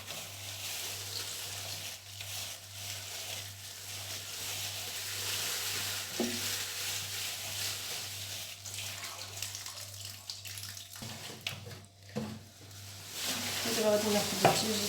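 Chopped coriander and parsley are stirred and tossed in a mixing bowl, giving a soft, continuous rustling scrape with a faint steady hum behind it and a few small clinks.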